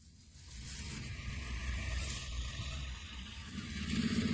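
FNM Alfa truck, loaded and working on a farm, its engine revving hard to high rpm with a steady low rumble that swells toward the end, close and alone with no talk.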